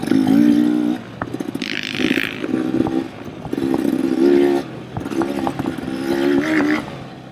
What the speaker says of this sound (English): also a 2025 XCW factory edition. Give it a go.